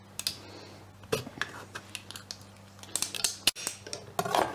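A packet of dried summer truffle with salt is being opened, making irregular close crinkles, snaps and sharp clicks scattered across a few seconds over a faint steady hum, with no talk.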